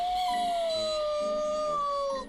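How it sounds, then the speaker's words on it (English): A dog's long, drawn-out howl wavers and slowly falls in pitch, loud and close, holding steady for about two seconds before fading at the end, with no talking. "With a howl, Cheese dragged out the remains of the heart"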